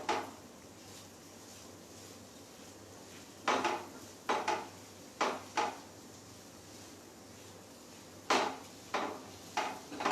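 A spoon mixes boiled potato samosa filling in a bowl in a home kitchen, giving sparse clinks and knocks in short clustered bursts over a quiet background.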